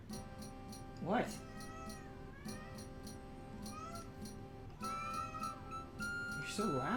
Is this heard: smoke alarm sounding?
no